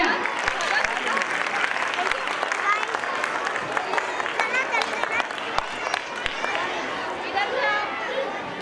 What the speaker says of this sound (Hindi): तालियों के लिए जोरदार तालियां।